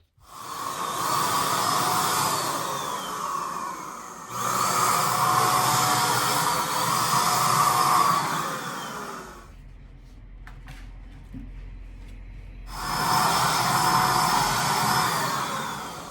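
An Avanti AV100 paint and stain sprayer motor whirring loudly while spraying hot water through to clean it, running in long steady bursts with a pause in the middle before starting up again.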